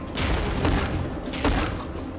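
Rapid, continuous shooting in the SSA video game, a steady dense stream of shots with a couple of stronger bursts standing out, loud and alone without talk.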